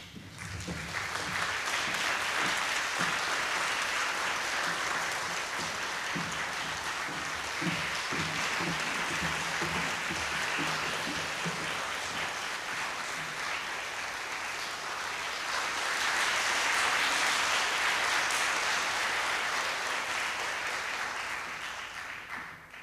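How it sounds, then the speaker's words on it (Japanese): A concert audience applauds to welcome a singer and a pianist onto the stage, a long, full, even wash of clapping from many hands that swells again midway before tapering off. "住川幸恵さん、前田真理さん、どうぞ拍手でお迎えください"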